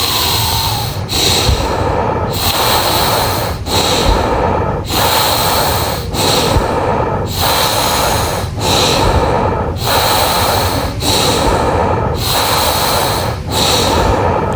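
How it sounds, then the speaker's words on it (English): Rhythmic, forceful breathing in a rebirthing breathwork session, the conscious connected breath with no pauses: loud close-up inhales and exhales repeat about every one and a half seconds, a steady rushing cycle that carries on alone. "Today we are breathing the conscious connected breath"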